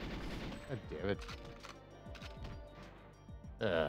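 Quiet bursts of rapid machine gun fire in GoldenEye 007 on Nintendo 64 crackle in quick succession, with a person speaking over them.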